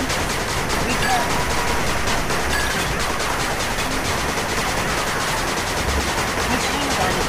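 A machine gun turret in the 8-Bit Armies strategy game fires continuously in loud, rapid bursts that fill the whole stretch, with game voice announcements mixed in.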